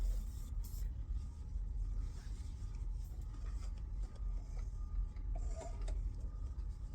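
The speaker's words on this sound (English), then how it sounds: "I need to sew this a bit" A sewing machine stitches a bag with a low, continuous mechanical whir and faint ticking, held at a steady level throughout.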